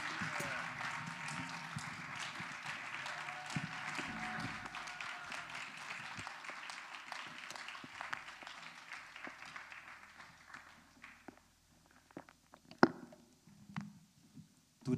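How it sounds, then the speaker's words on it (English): A congregation applauding at a Sunday church service in Las Vegas, a long wash of clapping that slowly fades out over several seconds, followed by scattered claps and a few sharp knocks. "Do they deserve another round of applause?"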